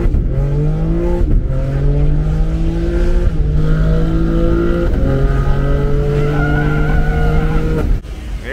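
A BMW E36 engine revs hard at a car meet, its tone climbing in repeated pulls with sharp shifts between them, loud and close, mixed with tire squeal before cutting off abruptly near the end.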